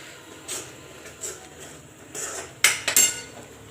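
A metal spoon scrapes and clanks against a pan while a masala purée is stirred until the oil separates, giving a few scattered strokes followed by a louder cluster of clinks near the end, with no talk.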